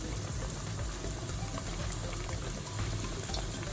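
Thin-sliced pork liver sizzles in hot oil in a pan, a steady, dense crackling hiss that continues without break from start to finish, with no voices over it.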